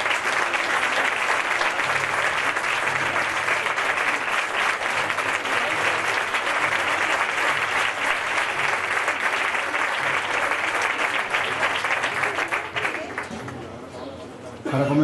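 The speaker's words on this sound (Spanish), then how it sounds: "recibimos con un fuerte aplauso al maestro Felipe Ruiz Campos" An audience at a band concert in a museum gives the conductor loud, sustained applause lasting about twelve seconds before it thins and fades, with some crowd chatter underneath.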